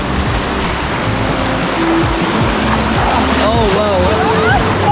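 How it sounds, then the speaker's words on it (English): A boat runs through river rapids near Palomino, Colombia. Rushing water and wind buffet the microphone in a loud, constant roar, and voices briefly exclaim over it. "Then it was time to spice things up with a few rapids."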